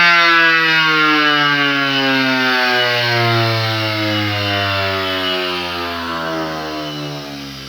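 A bench grinder built from a washing machine motor whines steadily and loudly, its tone climbing smoothly as it speeds up, alone with no voices.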